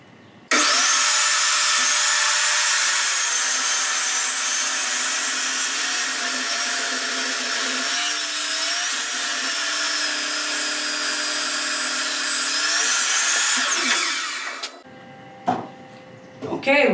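A power saw whines loudly and steadily while cutting wooden legs for a lift, running nearly nonstop before winding down, with brief clatter afterward.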